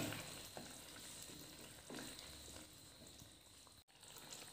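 Date pickle cooks in a pan over medium flame and gets stirred: a faint, steady sizzle with a few soft scrapes of the spoon.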